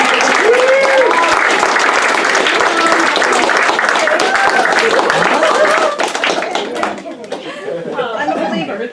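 An audience at a magic and mind-reading show breaks into loud, sustained applause, clapping continuously with some chatter before thinning out toward the end.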